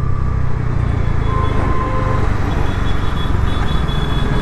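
A Bajaj Pulsar NS 400Z motorcycle rides in fourth gear at low speed, its engine holding a steady, even drone under constant wind and road rush, loud and close throughout.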